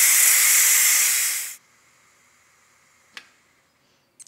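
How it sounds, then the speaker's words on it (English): Loud, steady hiss of steam venting from a Ninja Foodi pressure cooker on quick pressure release, cutting off abruptly after about a second and a half, followed by a couple of faint clicks. "I'm gonna immediately release this pressure"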